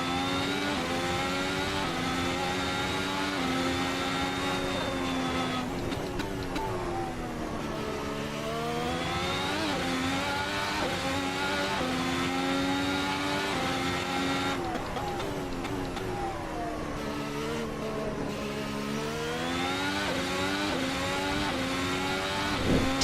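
A 2017 works Ferrari race car in the Assetto Corsa racing game, its engine loud and continuous with rising and falling revs through repeated gear changes, no voice over it.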